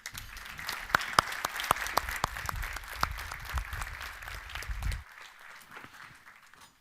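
Applause in a conference hall at Harpa as a speaker is welcomed to the podium: scattered, moderately distant clapping with a few sharp individual claps standing out, ending abruptly and leaving quiet room tone.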